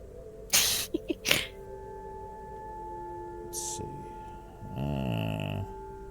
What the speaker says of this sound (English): people who have like really squeaky sneezes